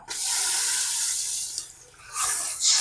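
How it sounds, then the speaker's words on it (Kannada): Water pours into a pan of chicken fry on a home stove: a steady, close hiss and splash for about two seconds, a brief dip, then a renewed gush near the end. "ಇವಾಗ ಸ್ವಲ್ಪ ನೀರು ಹಾಕ್ಬಿಡೋಣ"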